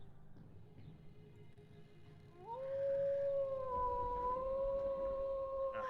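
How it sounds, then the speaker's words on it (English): A long eerie howl that rises after a quiet start and holds steady, echoing with a drawn-out tone over low background rumble, used as a sound effect. "A howl."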